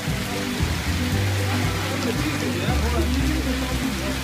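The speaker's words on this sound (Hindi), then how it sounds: "उधर बड़ी बारिश तेज है" Heavy rain pours continuously in Peshawar, a dense, steady wash of water noise, while people talk over it.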